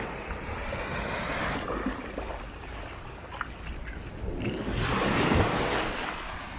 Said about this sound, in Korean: 아, 파도 소리 들리시죠? 찰퍽찰퍽.